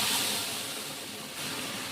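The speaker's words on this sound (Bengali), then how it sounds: "এবার আমি ডালটাকে ঢেলে দেবো।" Mung dal poured into a hot pan of oil with ginger paste: a broad, steady hiss of steam and sizzle fills the moment, easing slightly and then swelling again, close and with no voices.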